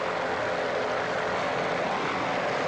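Offshore racing powerboat engines at a 1986 regatta running hard, a dense continuous roar with no letup, steady and loud as if heard from nearby, with no talking.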